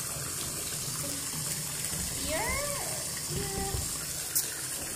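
Hot water runs from a tap into a bathtub, a steady rushing gush that holds through the clip while a person speaks briefly over it.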